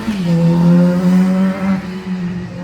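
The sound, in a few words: passing traffic in the background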